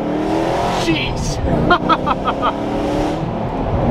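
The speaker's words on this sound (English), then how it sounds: "What an iconic car, the Ford GT, one of my ultimate dream cars." A Ford GT supercar engine roars and revs as it drives off, loud and close, with a brief spoken exclamation over the engine noise.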